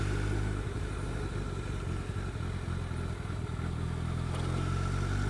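Motorcycle riding through town traffic in Ipswich, its engine a steady continuous rumble close by with slight shifts in pitch and some clatter, loud throughout with no talking.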